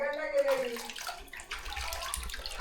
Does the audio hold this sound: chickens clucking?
no